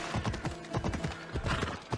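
Rapid horse hooves clip-clopping in Assassin's Creed Odyssey video game, in a quick, uneven rhythm, close and fairly quiet, with no talking.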